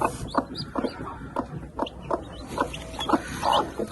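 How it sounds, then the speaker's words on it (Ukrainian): A hen clucks in quick, regular bursts close by as chicks hatch, with soft peeping mixed in and a low rustling background. "Все, в нас сьогодні лупляться курчата."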